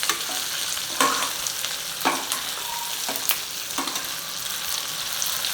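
Cashew nuts fry in a pan with onion, tomato and masala, a steady bright sizzle broken by a few sharp stirring scrapes at roughly one-second intervals, close and without any talk.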